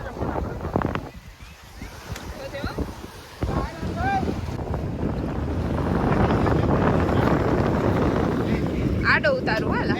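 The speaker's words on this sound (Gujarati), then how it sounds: "તો આ છે અમારી બોટ." Boat ride on the sea around an island near Shivrajpur beach, Dwarka, with steady engine and water rumble under strong microphone wind buffeting, rising louder in the second half; people talk over it.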